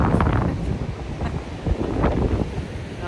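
Strong wind buffets the microphone on the beach at Mira, Portugal, a loud continuous rumbling roar with gusts swelling and easing, surf faintly underneath.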